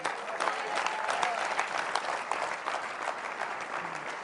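A large audience at a leadership talk breaks into applause, with many hands clapping in a steady, somewhat distant roar that swells and dips slightly as it continues.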